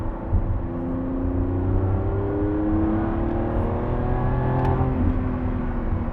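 A Lamborghini Revuelto engine revs in a loud, steady roar with layered rising tones that swell and ease over several seconds, with no voices.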